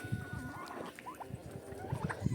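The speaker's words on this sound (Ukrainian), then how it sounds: "Маємо індюшки, це наш інкубатор." Turkeys cluck and gobble in a noisy poultry enclosure on a village farm, short calls overlapping at moderate distance against a busy background.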